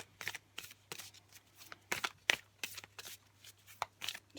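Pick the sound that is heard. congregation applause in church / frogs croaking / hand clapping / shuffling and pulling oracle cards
shuffling and pulling oracle cards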